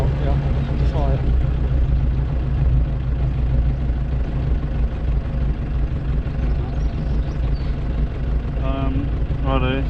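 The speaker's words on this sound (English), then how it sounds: "Will it idle nicely? Without stalling?" A 1937 Austin 7 engine ticking over at idle, a steady low rumble running throughout while people talk over it nearby.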